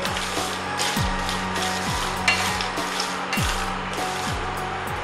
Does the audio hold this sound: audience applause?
no